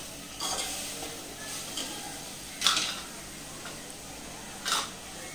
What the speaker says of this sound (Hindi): अभी थोड़ा सा इसको पहले भून लेंगे